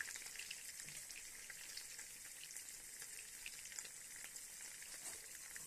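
Shawarma filling with egg fries in oil, a continuous bright crackling sizzle with tiny pops throughout, fairly quiet and steady with no voices.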